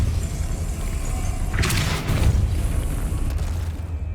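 In the Hogwarts Legacy video game, a Depulso spell fires with a sudden bright whoosh and a heavy boom over a steady low rumble of game ambience, followed by a fading rush.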